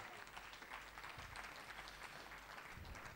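Congregation clapping together during a church service, a continuous dense wash of many hands, faint and distant-sounding, with no speech over it.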